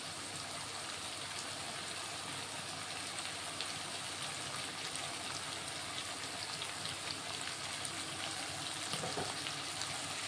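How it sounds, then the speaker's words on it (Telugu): Steady, soft hiss of fenugreek leaves frying in a pan of oil, an even crackling sizzle that runs on without pause and with no talking. "మెంతి కూడా ఒకసారి ఫ్రై చేసుకున్నాను"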